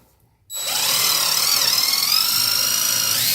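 A power drill with a 3/16 number 10 countersink bit drives a screw through a wooden shim into a 2x4 stud while a door is hung, one steady loud whine starting abruptly after a brief quiet moment and holding without pause.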